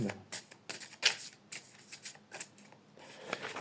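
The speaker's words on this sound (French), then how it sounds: "Je vais tirer une autre carte avec les Mandela." Oracle cards shuffled and drawn by hand, quiet papery riffles and soft slaps in short irregular bursts, close and faint, with a voice murmuring in places.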